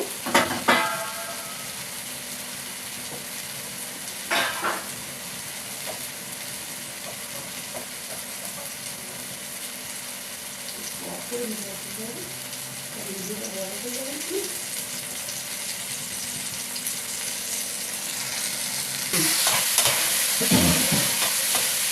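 Bengali spice masala for mutton curry being stir-fried in a pan, a steady low sizzle with occasional spoon scrapes and clanks, louder toward the end, with no talking over it.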